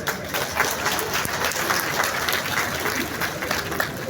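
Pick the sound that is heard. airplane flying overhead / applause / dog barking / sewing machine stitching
applause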